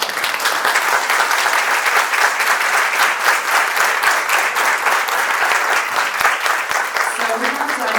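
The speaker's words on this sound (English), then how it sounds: "So thank you all very much for this applause." Sustained, dense applause from a large audience fills a hall at a child care leadership symposium, steady and loud throughout without any talk over it.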